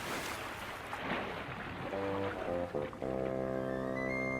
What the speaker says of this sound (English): He heard the flatbed crash into the buffers and then splash into the canal.